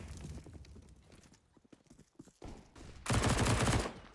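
Rapid pistol fire in Counter-Strike: Global Offensive, mostly Glocks, during a pro match on the Inferno map, with scattered shots early on and a dense, loud burst of gunfire near the end.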